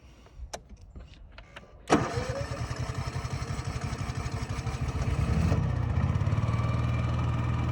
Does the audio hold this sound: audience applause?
no